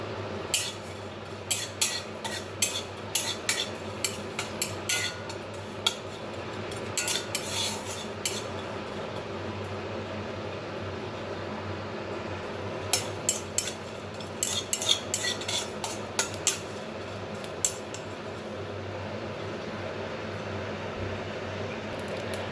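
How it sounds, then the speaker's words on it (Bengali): Oil sizzles steadily with whole cumin seeds in a hot wok while a metal spatula scrapes and taps against it in scattered bursts, close and moderately loud. "কড়াইটা গরম হয়ে গেছে এবার দিয়ে দিচ্ছি কিছুটা পরিমাণ গোটা জিরে জিরেটাকে খুব লাল লাল করে ভেজে নেবো"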